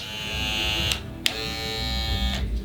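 An Andis Slimline Pro Li hair trimmer runs with a steady high-pitched electric buzz, twice briefly clicked or interrupted before resuming, close and fairly loud with no talking.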